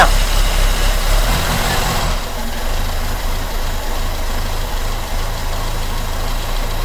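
A 1.1-litre carburetted petrol car engine runs close by at a steady idle, a loud continuous rumble that settles to a lower, even note after a couple of seconds.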